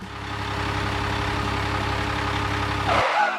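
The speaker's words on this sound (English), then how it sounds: "Look, the wood transporter is coming." Idling engine of a wood transporter truck arriving, a steady low diesel rumble with a tonal hum that holds evenly, then shifts abruptly near the end as the engine note changes and briefly grows louder.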